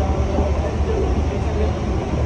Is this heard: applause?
no